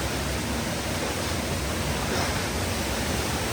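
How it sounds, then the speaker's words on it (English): Water roars steadily from an underground waterfall inside an abandoned mine in Middlehope Valley, UK, a constant broad rushing hiss that fills the space, with no talk over it. "the waterfall"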